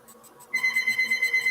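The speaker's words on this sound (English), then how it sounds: "Excuse the phone ringing." A phone rings close by: after a quiet half second, a loud electronic ringtone starts, pulsing in a quick, regular beeping pattern with no one speaking.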